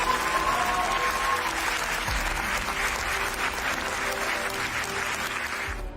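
An audience at a Hindi motivational speech breaks into sustained applause, a dense wash of clapping that holds steady and fades slightly toward the end.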